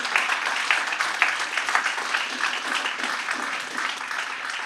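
Audience applause at a school district board meeting, a steady wash of many hands clapping at moderate volume throughout, with a few sharper claps standing out and no talk over it.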